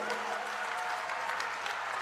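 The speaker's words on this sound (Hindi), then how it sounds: "जोर से बिरला जी के लिए ताली बजाइए भाई" A rally crowd claps for Om Birla at an Amit Shah political gathering, a continuous wash of many hands, fairly distant and even, with faint voices underneath.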